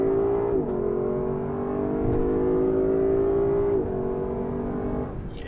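A Lexus LC500 Convertible's engine holds a steady, strong rev while accelerating in normal mode, with a brief dip and recovery partway through as it shifts, heard from inside the car without talk.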